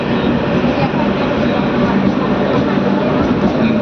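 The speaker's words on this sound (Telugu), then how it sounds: "పెండేకల్ నుంచి మన ట్రైన్ బయలుదేరింది" A DEMU train pulls out of Pendekal junction with a steady, loud rumble of wheels and engine throughout, with no clear breaks.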